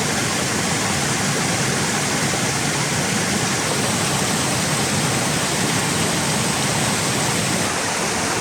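A river rushes over rocks at a trail crossing on the Pacific Crest Trail, a loud, steady, close roar of whitewater that holds unbroken throughout with no voices.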